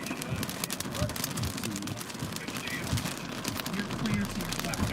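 Steady rain drums on the body of a storm-chasing car during a Kansas/Oklahoma storm chase, a dense continuous patter with low rumbling thumps, up close and fairly loud, while people talk inside.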